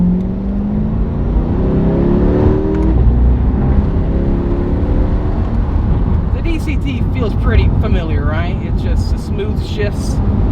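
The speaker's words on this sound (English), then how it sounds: "sport mode we're in right now with the track exhaust setting" A Chevrolet C8 Corvette in sport mode with the track exhaust setting pulls away on the road, its engine note loud and rising steadily through shifts, with people talking over it inside the cabin.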